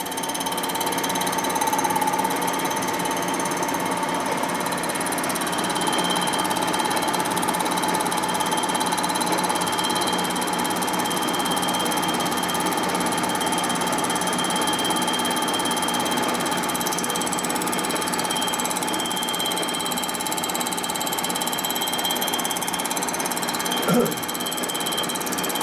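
A milling machine resurfacing a warped cylinder head from a 1957 Harley panhead, giving a steady, loud mechanical whine and grinding with tonal hum that runs unbroken; a brief voice is barely audible.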